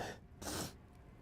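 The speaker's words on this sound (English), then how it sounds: "I gotta sneeze." A single close sneeze, a short sharp burst of breath and spray after a brief intake, heard alone in a quiet indoor setting.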